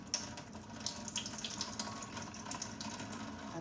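Rinse water runs and trickles steadily out of freshly washed rice as it drains in a home kitchen sink, a constant close splashing flow with small drips, no talking.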